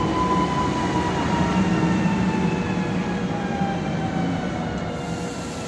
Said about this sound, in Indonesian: Kita akan naik kereta ya